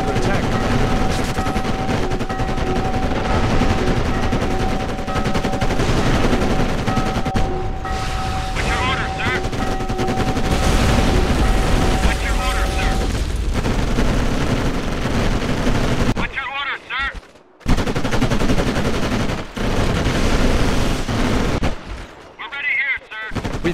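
Sustained gunfire and booming explosions roar through a Codename: Panzers – Cold War battle on PC, continuous machine-gun rattle and heavy blasts layered densely with brief drops near the end, while a radio voice speaks over the combat.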